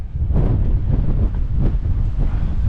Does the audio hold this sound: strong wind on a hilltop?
yes